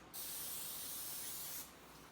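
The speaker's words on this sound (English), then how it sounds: "So we're gonna spray our baking sheet." Short continuous hiss of oil spray onto a baking sheet, about a second and a half long, close and moderately soft, starting and stopping cleanly.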